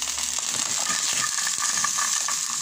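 Garlic and onion sauté in a pan while pork chops are being prepared, giving a steady bright sizzle with scattered small crackles and scraping ticks, loud and even, with no voices.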